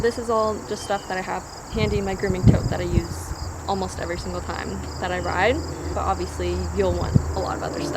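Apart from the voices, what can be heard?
crickets chirping outdoors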